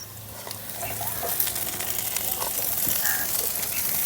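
Chopped capsicum, onion and green chilli sizzling in a hot pan on a high flame while being stir-fried, a continuous crackling hiss with occasional scraping stirs.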